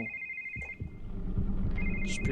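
A telephone ringing in the video game The Evil Within, a steady electronic tone that pauses and resumes over low rumbling ambience and faint footsteps.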